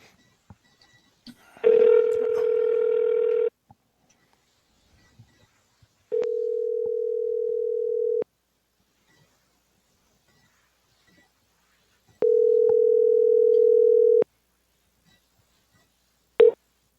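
A telephone line rings while a call is placed to a caller in Oklahoma with a Colorado Springs number: three steady two-second ringing tones separated by long silences, clear and alone, cut off as a fourth begins.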